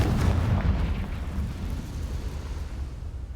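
The Confringo blasting spell explodes in Hogwarts Legacy, a loud, rumbling blast that fills the moment and slowly decays into a low, sustained roar.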